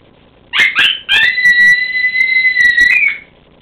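A call blows short yips followed by a long, high sustained howl that wavers and drops off, loud and close, imitating a coyote.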